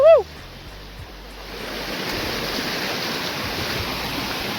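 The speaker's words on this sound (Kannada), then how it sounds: "ಹಾಂ, ಇದು ಮಾತ್ರ ಸಖತ್ತಾಗಿದೆ ವಾಟರ್ ಫಾಲ್ಸ್, ನೋಡ್ಬೋದು." A waterfall in the hidden forests of Uttara Kannada pours with a steady broadband rush, rising after a brief opening tone and holding a constant, fairly loud roar.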